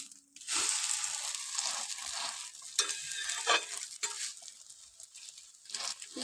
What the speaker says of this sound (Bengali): দুটো একসাথে আমি ভেজে নিলাম, ডিম আর রুটিটা।